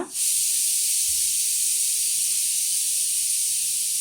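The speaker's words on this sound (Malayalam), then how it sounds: "അതൊന്ന് ഒന്ന് ഇട്ടതിന് ശേഷം നല്ലപോലെ ഒന്ന് വഴറ്റിയെടുക്കുക" Onions and spices sauté in hot oil in a pan for a green peas masala curry, giving a loud, steady, continuous sizzle that holds throughout with no talking.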